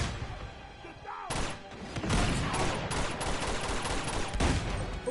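Dense gunfire from the video game Uncharted 2: Among Thieves, a loud continuous fusillade of overlapping shots and thuds with a brief lull near the start, then steady bursts throughout.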